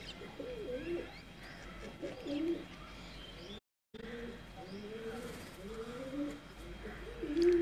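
Tiger-breed pigeons coo in low, rolling phrases, repeating several times close by against a quiet background, with a brief gap of silence midway.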